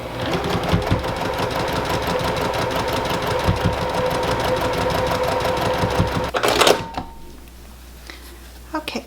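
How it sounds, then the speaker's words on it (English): A sewing machine stitches quilted fabric panels together along a quarter-inch seam, a fast steady whirring chatter for several seconds before stopping, followed by quiet handling noises. "I'm going to stitch from the top to the bottom to join."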